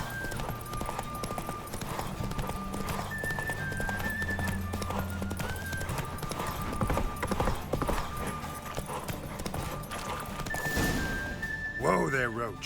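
Hooves of Roach, the horse in The Witcher 3, clip-clop steadily throughout at close range, mixed with game music and talking voices, ending with a brief whinny-like burst.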